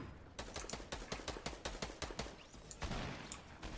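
Rapid gunfire in the Fortnite Battle Royale video game, a run of sharp shots in quick bursts at close to medium range, with a heavier burst near the end and no talking.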